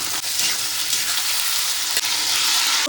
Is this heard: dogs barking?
no